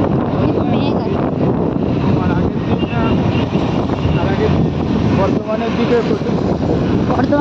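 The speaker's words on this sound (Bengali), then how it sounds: "ওই ব্রিজের উপরে উঠে বেশ সুন্দর হাওয়া দিচ্ছে।" Strong wind gusts across a bridge over a lake, roaring and buffeting the microphone loudly and continuously with a deep rumble, and a voice is partly buried beneath it.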